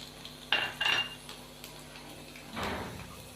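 Finely chopped desi garlic tipped into hot oil with cumin for a mixed daal tadka, giving a couple of sharp metal spoon clinks and a brief sizzle close by, with no talk.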